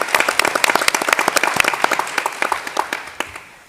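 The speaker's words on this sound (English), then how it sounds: "how about another round of applause for our Green Halo Scholars?" Lively applause from a crowd at a high school board meeting, dense clapping that holds steady for a few seconds before tapering off.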